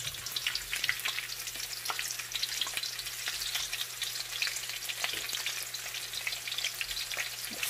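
Garlic and onions sauté in a pan, giving a continuous crackling sizzle with scattered sharp pops and a low background hum throughout.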